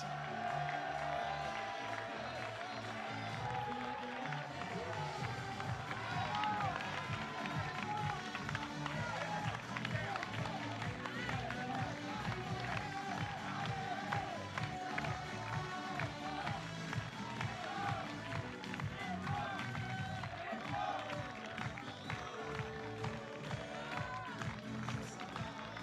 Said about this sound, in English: Allez, on peut continuer de les applaudir.